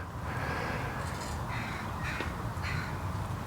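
Crows cawing on a beach at sunrise, several harsh calls spaced through the stretch over a steady wash of surf or wind, moderately distant.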